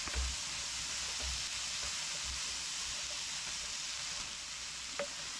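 Tomatoes cooking down in a hot pan give a steady, close sizzle and hiss throughout, with a few soft low thumps from the pan and no talking.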